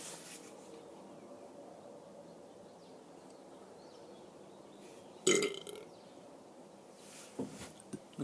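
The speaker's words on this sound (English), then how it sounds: "I'm just gonna start burping again, no more talking." A person burps once, loudly and abruptly, after several seconds of quiet room hiss, followed by a few smaller, rougher gulping bursts near the end.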